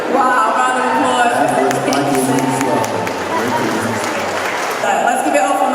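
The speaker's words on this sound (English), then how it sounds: "Wow, round of applause." Comic Con crowd applauding in a hall, a sustained mix of clapping and murmuring voices with speech running over it throughout.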